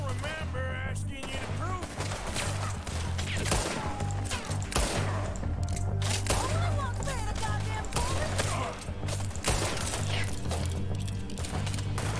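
Rapid bursts of gunfire in the video game Red Dead Redemption II crackle loudly and continuously over a heavy low rumble and background music, with several sharper shots standing out throughout.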